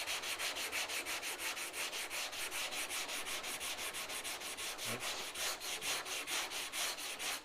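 Sandpaper is rubbed rapidly back and forth over a car body panel on a Ford XY sedan under restoration, making a steady rhythmic scratchy rasp of even strokes, close and continuous without speech.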